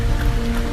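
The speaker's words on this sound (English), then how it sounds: "It's 44 degrees and it's nice and rainy outside." Steady rain falls outside on a cold, 44-degree day, a dense, even hiss of drops on surfaces filling the moment without any voices.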